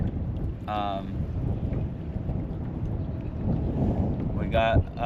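Wind gusting steadily across open water beside a boat while out fishing near St. Augustine, a continuous low roar with buffeting on the microphone and brief faint voices near the start and end.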